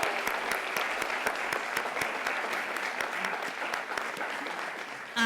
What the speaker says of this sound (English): So if we could just give a round of applause.